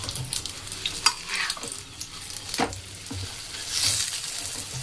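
Mughlai paratha frying in shallow hot oil over a low flame, a steady crackling sizzle with occasional scraping and stirring clicks from a utensil in the pan, close and continuous.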